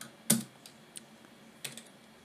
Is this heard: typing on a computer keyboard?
yes